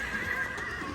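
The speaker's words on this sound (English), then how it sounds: "Oh, small horse." A small horse or pony at a sheep farm whinnies steadily for about a second, close by and fairly loud, with faint hoof clip-clop in the background.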